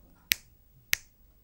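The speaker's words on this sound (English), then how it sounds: "I'm giving a snapping clap nearby my ear" Two crisp finger snaps ring out close to the ear, sharp isolated clicks about half a second apart in an otherwise quiet room.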